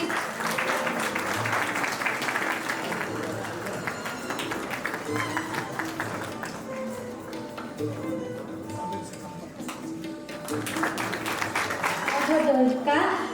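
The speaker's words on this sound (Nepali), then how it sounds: "उहाँलाई पनि जोरदार ताली बधाई" Applause from an audience at a Nepal Handicraft Federation golden jubilee ceremony as a prize winner is honoured, steady crowd clapping that thins in the middle and swells again near the end, with voices murmuring under it.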